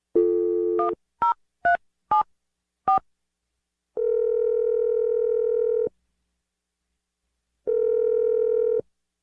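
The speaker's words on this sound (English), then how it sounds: "I'm gonna dial the number right now." Telephone dialing a number for a call: a dial tone, then a quick series of clear key tones, followed by two long steady ringback tones separated by silence.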